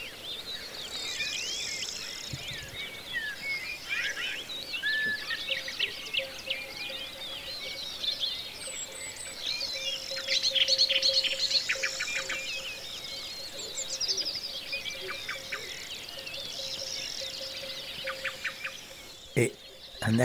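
A pair of little owls calls with repeated high chirps and squeaks over a steady outdoor chorus of insects, with a few sharp knocks near the end.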